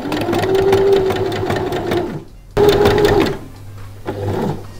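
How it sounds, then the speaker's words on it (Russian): A sewing machine runs fast and close, stitching a seam on fabric in two rapid bursts of chattering needle strokes with a short pause between them, then slowing to a lighter run. "Далее прокладываем строчку не по булавкам."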